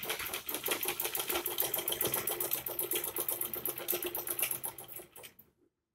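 A sewing machine runs steadily while stitching a seam on a kurti, its rapid even needle clatter continuing up close for several seconds, then slowing and stopping.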